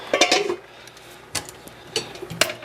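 A metal lid is set back onto a cooking pot during stovetop cooking, making a few light clanks and clinks spaced apart, fairly close and quiet, with no talking.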